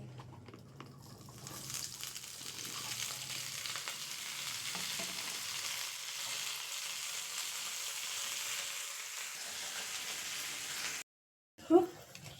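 Soft, steady sizzling of okra frying in hot oil with five-spice seeds, fairly quiet and continuous, then a brief pause followed by a light clink.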